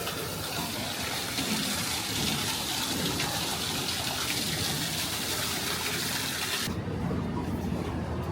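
Water flowing steadily at Shinjuku Gyoen garden in Japan, a loud continuous rushing and splashing that fills the scene before cutting off abruptly near the end.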